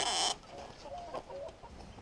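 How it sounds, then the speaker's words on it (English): Chickens and a rooster clucking on a farm in a Sonoran Desert food forest, a brief loud burst at the start, then softer scattered clucks and calls close by. "Got another rooster over there."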